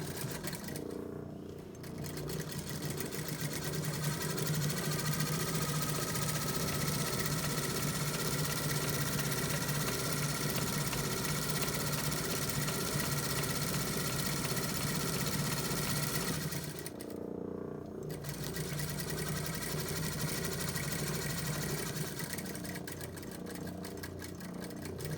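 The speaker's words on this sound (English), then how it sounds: "I'm going to stitch it down, and because I want to see where I'm stitching it, I'm going to stitch it from the wrong side" A sewing machine stitches down a shirt placket from the wrong side, running in a steady, continuous mechanical whir close by, with two brief pauses where the motor stops and restarts.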